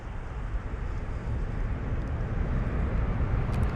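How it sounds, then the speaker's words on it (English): An Airbus A330-200 rotating on take-off at London Heathrow, a steady loud jet roar with deep low rumble that holds throughout, heard from some distance without any talk. "Quite a loud aircraft"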